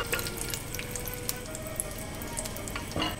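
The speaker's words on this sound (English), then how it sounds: "I'm going to start by frying off some slivered almonds until they're nice and golden in colour." Slivered almonds fry in hot oil until golden for a vegan eggplant rice pilaf, giving a steady, dense sizzle with small crackles and pops throughout and no voices.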